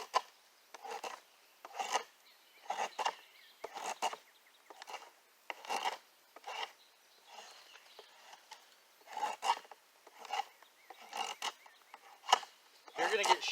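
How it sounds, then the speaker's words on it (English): Drawknife shaving wood clamped in a shaving horse: a steady series of rasping strokes, roughly one per second, close and fairly quiet. "then you just start shaving your wood down"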